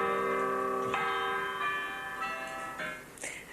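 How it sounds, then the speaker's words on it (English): Clock tower chimes, newly converted to electric power, ring out as a sequence of resonant bell strikes, each one sustaining and overlapping the last, heard clearly at moderate distance. "now the chimes should be accurate to within a few seconds"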